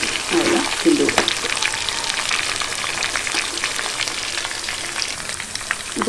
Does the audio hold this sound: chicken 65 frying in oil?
yes